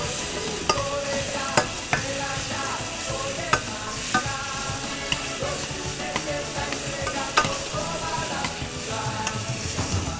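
Meat sears and sizzles in a pan while being stirred, a steady close frying hiss punctuated by repeated scraping and clinking from the utensil, with no talking.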